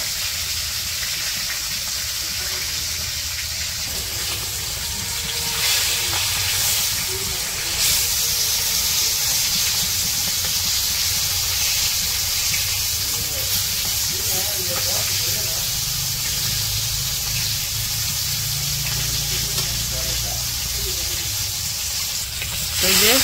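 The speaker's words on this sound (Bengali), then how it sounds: "কই মাছ ভাজা শেষ হলে তারপর মাগুর মাছ ভাজবে" Koi fish frying in hot oil in a Bangladeshi village kitchen, a steady close sizzle and hiss with bubbling spatter running throughout, slightly louder midway, with faint voices in the background.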